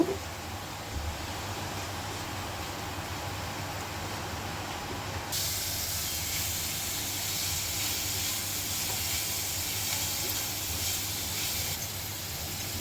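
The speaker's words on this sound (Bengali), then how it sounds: "এখন রসুনটা চিংড়ি মাছের সাথে ভেজে নেব" Minced garlic frying with prawns in a hot pan, probably in butter, giving a steady hiss that grows suddenly louder and brighter partway through and then keeps sizzling.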